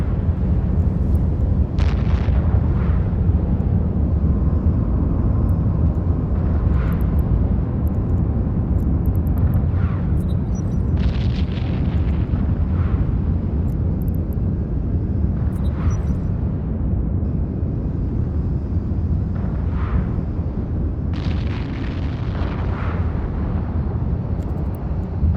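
In EVE Online, enemy guns hit the player's ship as continuous low explosive rumbling, with repeated muffled bursts and booms spread evenly throughout.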